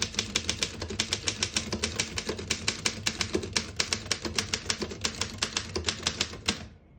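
A 1920 Underwood No.5 antique desktop typewriter striking keys in a rapid, steady run of sharp mechanical clacks, close and clear with no talking, ending abruptly.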